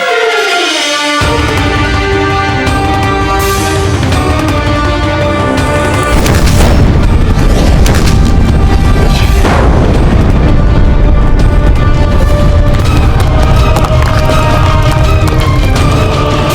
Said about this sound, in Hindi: एक ओर तो ये मुगल अपनी तोपों से हम पर गोले बरसाए जा रहे हैं